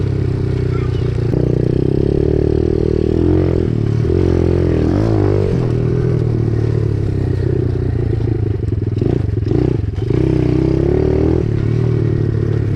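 A small pit bike's engine revs and bogs as it rips around a dirt track, loud and close, with rattling clatter and rising and falling throttle throughout, and a voice occasionally audible underneath.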